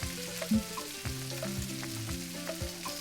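Pork cubes sauté in a pan, a gentle continuous frying sizzle with occasional stirring clinks, heard close and fairly quiet while steady musical tones play underneath, without any talking.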